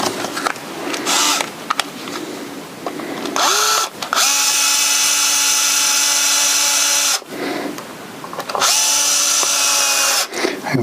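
A power drill drives screws into the plate of a left-handed Vintage V99 Les Paul guitar, whirring in two long, close, steady bursts separated by brief handling noises.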